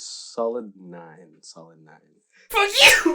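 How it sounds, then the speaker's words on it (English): A single person sneezes loudly and sharply right at the end, after a stretch of nearby talking with short pauses. "I need to sneeze"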